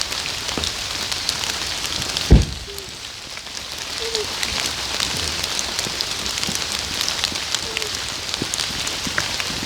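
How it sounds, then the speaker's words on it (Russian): Steady rain falling outdoors, a dense continuous hiss with scattered drips and one brief louder thud, heard at moderate level throughout. "Мне кажется, нам не даст дождь в лес ходить."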